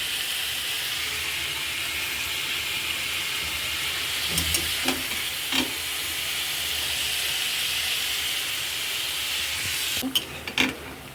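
Fish sautéing in a pan for a mixed greens and fish dish gives a low, even sizzling hiss, punctuated by a few sharp utensil taps and scrapes near the middle and the end.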